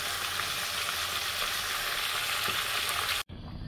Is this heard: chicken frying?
yes